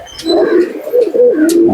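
A domestic pigeon, one of a male and female pair kept by a fancier, coos close by in a steady rolling, throaty series with no talking over it.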